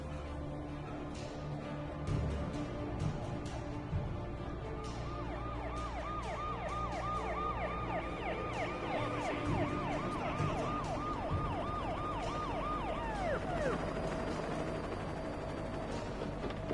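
Police sirens in the video game Alan Wake on PlayStation 5, several wailing sirens overlapping at middle distance over a steady background rumble and ambient noise.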